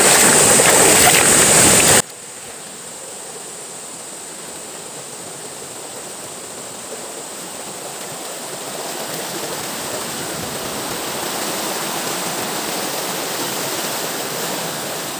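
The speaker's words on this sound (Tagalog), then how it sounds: "Ayan, medyo malakas lang ang lagaslas ng tubig." Rushing water of Karatsa Falls in Mindoro roars continuously, a steady broad hiss that holds throughout after a brief louder burst of noise at the start.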